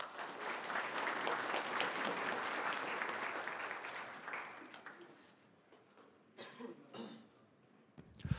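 Audience applause at a fair-trade compliance symposium welcomes the Korea Fair Trade Commission chairman to the podium, a dense steady clapping for about five seconds that fades into scattered coughs and throat clearing.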